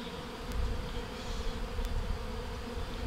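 Bees buzz around flowers in a varied garden setting, a steady moderate drone with a few insects passing closer for brief moments, outdoors with no talk.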